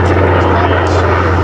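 A radial-engined RC scale Sikorsky S58 helicopter flying at a model airfield gives a steady, loud droning engine hum with a low tonal buzz and rotor wash, continuous and fairly close throughout.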